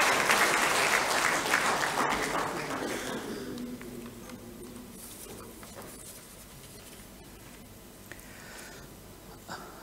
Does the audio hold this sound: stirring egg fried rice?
no